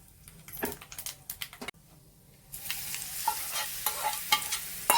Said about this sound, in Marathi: आपण जे वाटलेलं पेरूचं मिश्रण त्याच्यावरती ओतून घेऊ